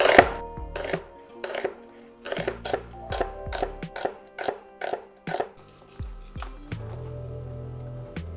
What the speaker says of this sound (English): And then just finely slice it